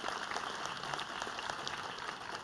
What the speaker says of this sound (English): I want us all to give the students that are here today a round of applause